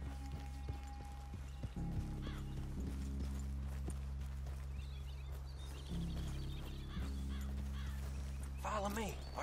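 Horses in the video game Red Dead Redemption 2 clip-clop steadily as they walk, with a low rumbling backdrop and some faint voices.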